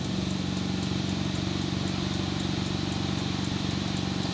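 A 2005 Mitsubishi Lancer engine runs steadily with the air conditioning switched on, a close, continuous low hum with a faint rhythmic pulsing and no talk over it.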